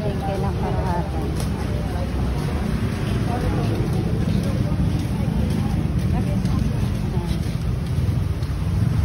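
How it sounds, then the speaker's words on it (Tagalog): Strong wind after Typhoon Carina buffets the microphone in a constant loud roar in a Valenzuela street, with faint street sounds and a voice now and then underneath. "Ba't ang lakas ng hangin?"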